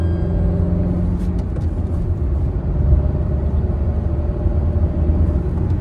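A Tata Nexon rolling in neutral after a front wheel bearing replacement, giving a steady low road rumble and tyre whir with no grinding or hum, continuous and fairly loud throughout.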